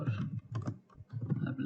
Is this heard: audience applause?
no